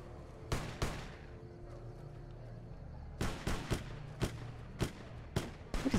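Gunfire in Fallout: New Vegas: sharp separate shots, two early then a cluster of about six irregular cracks later, moderately loud over a low ambient game drone.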